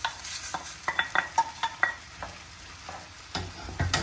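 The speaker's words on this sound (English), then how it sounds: "the eggplants, I can go ahead and add those to the sauce" Eggplant goes into a hot sauce in a pan and is stirred, a soft steady sizzle broken by scraping, clinking stirs, faint and close, with no talking.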